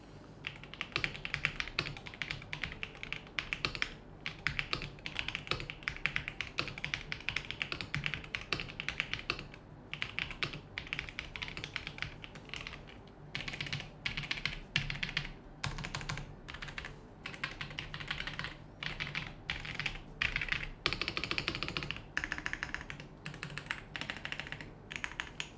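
Steady typing on a Royal Kludge S98 mechanical keyboard, close and clear, with continuous rapid keystrokes and occasional brief pauses, no talking.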